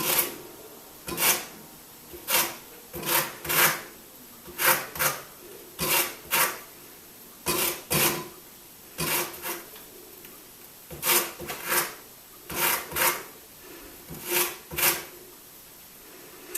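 An orange is zested on a grater in short single pulls, giving crisp scraping strokes close up, often in quick pairs, separated by brief pauses with no talking.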